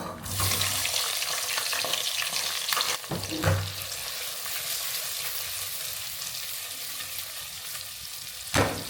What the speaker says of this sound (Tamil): வெங்காயம் நல்லா ப்ரௌன் கலரில் ஆகிற அளவுக்கு நம்ம ஃப்ரை பண்ணி எடுத்துக்கலாம்.